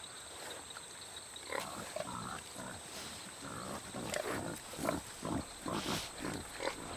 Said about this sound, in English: Resembling wild pigs in behavior and appearance, peccaries never stray too far from water.